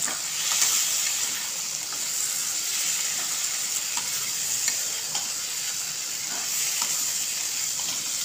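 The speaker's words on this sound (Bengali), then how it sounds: "এবার আমি একসাথে নেড়ে দেব" Egg khichdi ingredients with scrambled fried egg are stirred together in a hot pan, giving a continuous, even frying hiss and sizzle close by, with soft stirring scrapes mixed in and no talking.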